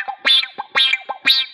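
Open, unmuted electric guitar notes through a MuTron III envelope filter, three bright notes that pop with a sweeping wah-like attack, each followed by a short grace note, loud and close with no voices.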